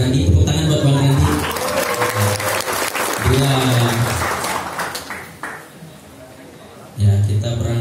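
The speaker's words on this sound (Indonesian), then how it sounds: "Tepuk tangan buat bang Randy." Audience applause at a school seminar on solving signal blank spots, a steady wash of clapping that fades toward the end, then swells again briefly near the close.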